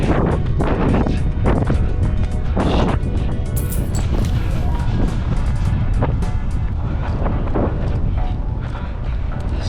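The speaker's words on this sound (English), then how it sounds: "Fuck, it's cold. The wind." Cold wind buffeting a microphone outdoors, a loud, constant low rumble with gusty surges and thumps that swell and fade throughout, close and dominating everything else.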